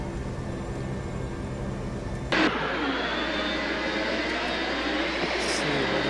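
A Boeing 747-100 in Flight Simulator X comes in to land, its engine roar abruptly shifting to a broad, steady jet whoosh with a faint high whine, while someone talks over it.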